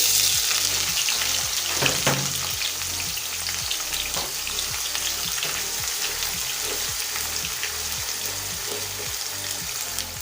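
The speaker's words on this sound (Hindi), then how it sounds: "घी हमारा गर्म हो चुका है। अब मैं इसमें प्याज ऐड करूंगी।" Onions hit hot ghee in a pan and fry with a loud, continuous, close-up sizzle, and bursts of stirring scrape through the crackle.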